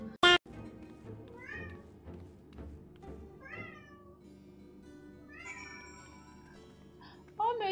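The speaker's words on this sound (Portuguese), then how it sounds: "Oh, meu Deus! Que gatinho dramático!" A cat lets out a run of drawn-out, dramatic meows, four or five wavering cries spaced a second or two apart over a quiet background, with a sharp clatter at the start and end.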